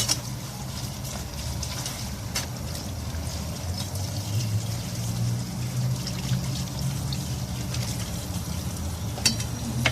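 Tap water runs steadily into a sink while a pile of lunch dishes is washed, a soft continuous trickle with occasional clinks, no talking.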